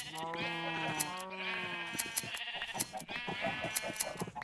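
Sheep in Minecraft bleat in quick succession, several wavering, nasal calls overlapping at moderate volume against faint game background noise.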